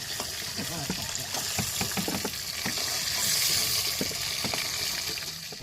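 Potatoes fry in oil in a pan over a makeshift riverside stove, giving a steady, loud sizzle broken by frequent clicks and scrapes of stirring.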